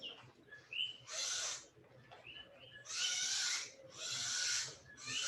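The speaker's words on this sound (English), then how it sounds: "Hopefully you can hear all these tropical birds around me." A busy chorus of tropical-sounding birds fills the air, whistles and chirps mixing with repeated loud, bright bursts of dense buzzing.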